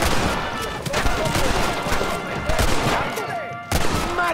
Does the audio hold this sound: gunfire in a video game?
yes